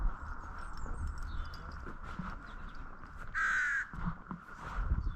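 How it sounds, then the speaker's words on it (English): Crows caw near a seaside promenade, one harsh caw standing out clearly midway over a background of outdoor rustle and low wind, with no talking. "A couple of wee crows here."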